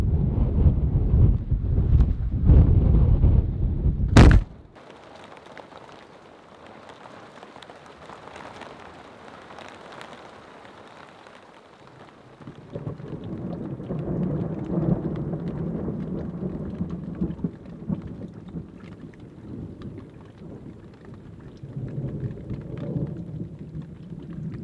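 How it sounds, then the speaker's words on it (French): A mountain thunderstorm in the Pyrenees, with a loud, close thunder crash and heavy rain at the start, then a lull of wind and drizzle before steady rain returns, no voices. "les orages sont très présents en cette saison. Et ils sont impressionnants en montagne."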